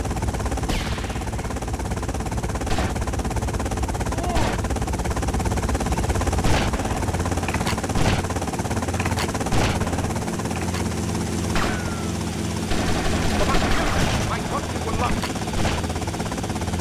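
A helicopter in Grand Theft Auto Vice City gives a loud, continuous rotor chop with a rapid, even beat that lasts the whole stretch. Brief sharp game noises break in here and there.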